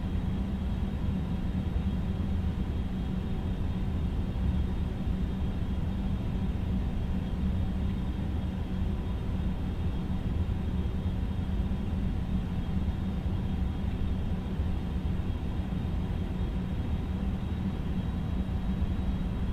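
A BAe 146 airliner on final approach to land at Edinburgh in the X-Plane 11 simulator gives a steady, unbroken engine roar and low rumble, constant in level, with no voices.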